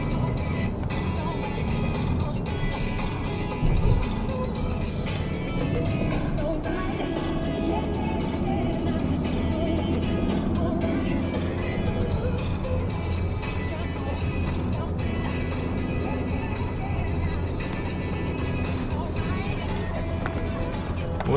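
A steady low hum of a car driving on the road toward Sochi, with road and engine noise filling the cabin for the whole stretch and a brief thump early on.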